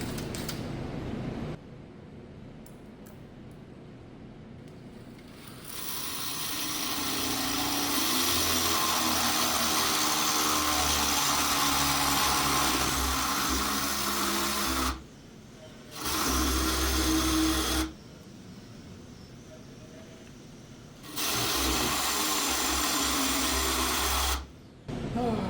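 A drill grinds steadily against steel where it was just cut with a torch, its blunt bits struggling to bite. The motor whines on, cut by short pauses and restarts, loud and close in a shop build of a C50 motorcycle.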